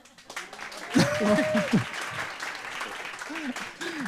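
Audience applause at a live comedy show, a burst of clapping under a speaking voice that carries over it before fading away.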